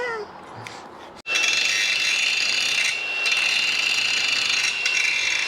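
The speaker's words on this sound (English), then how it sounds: "Angle grinder gets rid of all the tails." An angle grinder takes the weld tails off metal, starting after a brief lull and then running as a loud, close, continuous whining grind with a harsh rasping edge.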